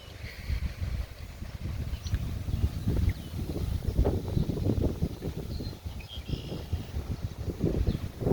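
Gusty wind picks up as a small rain storm moves in outdoors, rumbling and buffeting close to the microphone with steady low roar and no talking.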